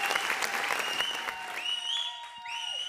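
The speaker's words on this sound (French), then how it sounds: "Est-ce qu'on peut applaudir pour De Bordeaux?" An audience at a TV show cheers Debordo Leekunfa with a dense burst of applause that thins out as shrill whistles and tonal cheers rise over the clapping.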